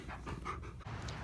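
A dog pants close by on a hot day, with quick, rhythmic breaths of about four or five per second that keep going steadily. Nobody speaks.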